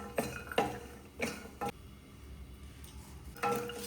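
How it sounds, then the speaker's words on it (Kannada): Walnuts frying in a pan for a dry-fruit laddu, heard as a few sharp metallic clinks and taps of stirring against the pan, spaced irregularly over a quiet, soft background. "ಇವಾಗ ನಾನಿಲ್ಲಿ ವಾಲ್ನಟ್ ಫ್ರೈ ಮಾಡ್ಕೋತಾ ಇದ್ದೀನಿ"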